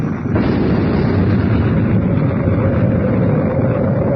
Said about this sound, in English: An explosion inside the Sphinx.